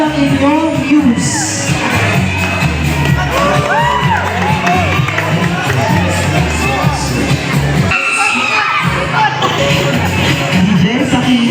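A crowd at a community event shouts and cheers loudly to choose a Best News winner, with overlapping whoops and yells running throughout and a brief lull partway before the noise surges again.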